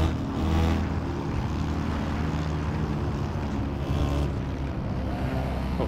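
A video game Volkswagen Beetle race car with a tuned engine of around 200 horsepower drones steadily at moderate loudness, a continuous buzzing engine tone with slight pitch shifts and no talk over it.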